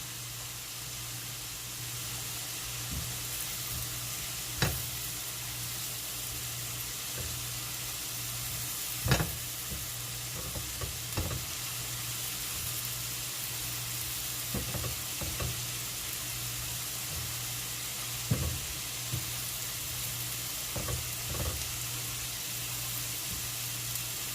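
Chili peppers stir-fried for salt and pepper wings give a steady, fairly quiet sizzle in the pan, with occasional sharp clinks and scrapes of stirring throughout and no talking.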